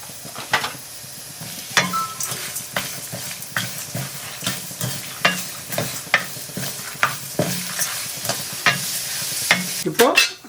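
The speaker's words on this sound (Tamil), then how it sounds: "இப்போது நம்ம எல்லா பொருளும் போட்டு நல்லா செவக்க வறுத்துட்டோம்" Grated dry copra coconut, curry leaves and spices are stirred and dry-roasted in a pan, giving repeated scraping strokes over a soft sizzle at a steady, uneven rhythm, close and moderately loud with no talking.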